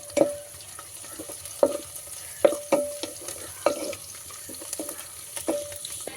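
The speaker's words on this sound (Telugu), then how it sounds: "బాగా వేపుకోవాలన్నమాట. నేనైతే 3 రెమ్మల కరివేపాకు వేసేస్తున్నాను." Curry leaves tossed into hot oil for a Nellore-style fish curry give a steady sizzle, broken by several sharp spoon clinks and stirring scrapes at irregular intervals, close up with no voices.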